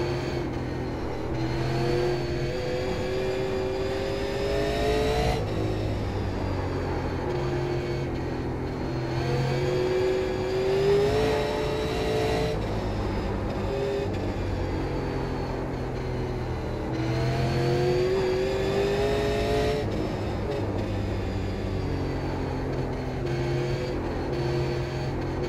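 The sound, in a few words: super late model race car engine in iRacing video game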